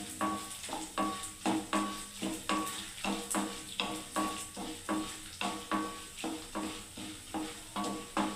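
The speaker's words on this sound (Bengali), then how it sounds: "এবারে বন্ধুরা দেখুন আমি অরহরের ডালটাকে দিয়ে দিচ্ছি বন্ধুরা।" Arhar dal is stirred in a sizzling pan, with a steady scraping beat about twice a second over a soft frying hiss, close and fairly loud throughout.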